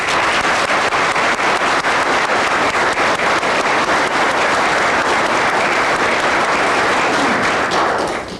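Audience at a community awards night giving a round of applause to the helpers, loud dense clapping held at a constant level from start to finish before tapering slightly at the very end.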